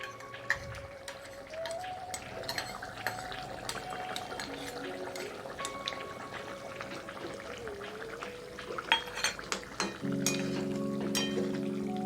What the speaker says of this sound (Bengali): এখন দিয়ে দেবো জিরে ধনে বাটা